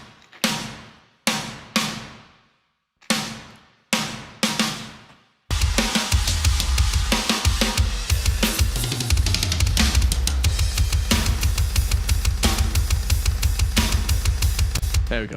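A prog metal snare layered with pre-reverbed samples: five isolated hits with long decaying tails, then the snare repeating fast inside a dense, loud full drum and band mix.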